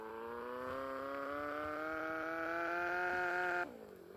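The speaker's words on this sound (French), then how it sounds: "Par contre, c'est la moto, elle accélère trop." A motorcycle in the Roblox game Brookhaven accelerates as a smooth, rising synthetic engine whine that climbs steadily in pitch for a few seconds, then drops abruptly and dips again.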